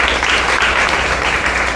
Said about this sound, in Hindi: बहुत अच्छा, ताली बजाइए